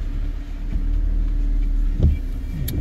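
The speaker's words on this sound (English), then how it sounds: "the car's coming up speeding" Steady low road rumble of a car near a junction on a driving test route in Steeton, Keighley, with a brief rise as another car comes up speeding, fairly faint and with no talking.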